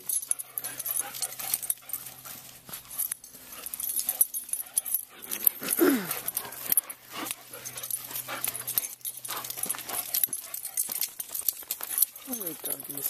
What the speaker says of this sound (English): Go play with the dogs.